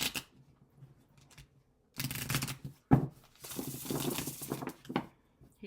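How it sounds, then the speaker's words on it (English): Tarot cards are shuffled in several quick riffling bursts separated by short pauses, close and fairly soft, with light tapping between. "last shuffle for the Heirophant"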